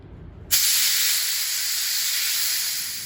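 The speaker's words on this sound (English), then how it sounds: "give that a blowout with some compressed air" Compressed air blasts through a small spray gun filter, a sudden loud, steady high-pitched hiss that starts abruptly after a moment of quiet and holds for a few seconds.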